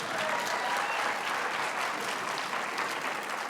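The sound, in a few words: applause at a graduation ceremony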